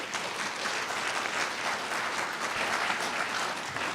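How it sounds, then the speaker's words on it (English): A debate audience in Terrace applauding, a dense, steady wash of many hands clapping at moderate distance, sustained at an even level throughout with no voices. "Wait for the applause to stop."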